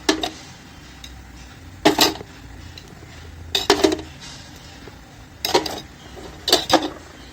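Bowls of idli batter being set into a steamer: four or five separate clinks and clatters of metal bowls against metal, spaced a couple of seconds apart, close and fairly loud against a quiet background.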